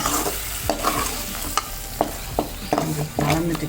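Rice flour dough for kozhukattai being stirred in a pan, repeated scraping strokes of a spoon against the metal every half second or so over a soft sizzle, close and fairly loud.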